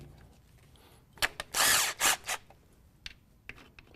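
A power driver with a number 30 Torx bit spins out transmission pan bolts on a molded-gasket pan, giving a few short bursts with one longer whir near the middle, close and loud over a quiet shop background.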